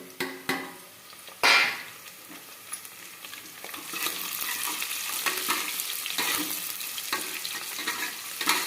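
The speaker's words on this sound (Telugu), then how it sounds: "నెక్స్ట్ ఒట్టి మిరపకాయలు వేయాలి దాంట్లో" Dry red chillies crackle and fry in hot oil in a pan, a steady close sizzle with a few sharp clinks of a utensil at the start, then a rising, continuous frying hiss.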